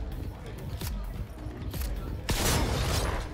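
Gunfire in Cyberpunk 2077, a few sharp shots and bursts cutting through continuous game noise and background sound, closer and louder near the end.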